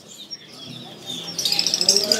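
Jala kebo birds call in a bird market kiosk, with thin chirps and twitters growing busier and brighter toward the end amid low background murmur.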